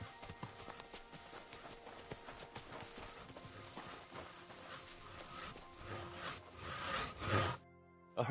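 Horse hooves clip-clop steadily in the medieval video game Kingdom Come Deliverance 2, a continuous rhythmic trotting at moderate distance that runs for several seconds and then cuts out abruptly near the end.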